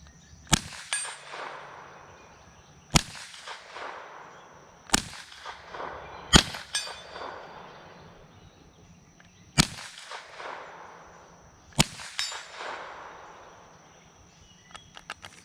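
Six sharp, loud rifle shots from a Marlin Model 60 ring out outdoors at irregular intervals of a few seconds, each crack followed by a decaying echo across a hillside.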